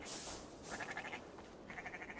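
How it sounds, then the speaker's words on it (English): Sheep bleat in the video game Assassin's Creed Valhalla, two short wavering bleats in succession, moderately close and soft, over a faint background hiss with no voices. "Feed the sheep and see what comes out."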